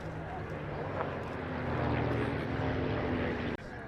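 Team Raven's propeller aircraft perform at the Duxford summer airshow, their engines giving a steady, loud drone that fills the whole clip. A commentator talks over it.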